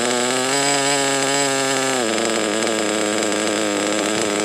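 Engine with strong harmonic whine revving up, then dropping back to a lower, unsteady idle about halfway through, loud and close with no talking.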